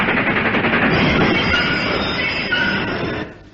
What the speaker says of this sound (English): Here comes an empty train now.